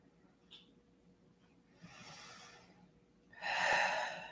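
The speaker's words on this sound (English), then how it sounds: "We'll take 3 more breaths here." Slow deep breaths during a yoga session, a soft breath followed by a long exhale and then a louder, fuller breath, close and quiet with no talking.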